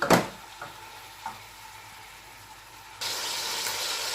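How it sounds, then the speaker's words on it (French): Meat browning in a pan with onions and garlic, a few soft clinks at first, then a louder sizzling hiss swells up near the end, heard up close with no talking. "Vous faites revenir la viande."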